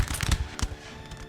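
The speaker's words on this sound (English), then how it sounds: "A cannon, round shot, possibly." Cannon round shot firing in the Napoleon Total War battle, a burst of heavy booming reports with crackling musket-like shots close together, then a fainter thump later.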